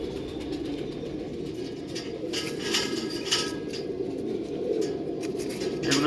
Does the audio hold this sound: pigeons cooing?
yes